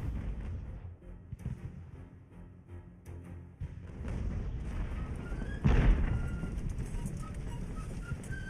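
Mortar and artillery fire booms in the naval strategy game Ultimate Admiral: Age of Sail, a continuous low rumble of distant cannon thuds with one louder, closer blast partway through.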